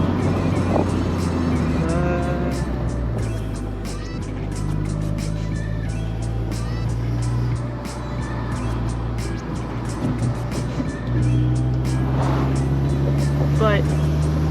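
Honda Civic commuter car on the move, steady engine drone and road noise with gear-related pitch shifts, while someone talks over it continuously.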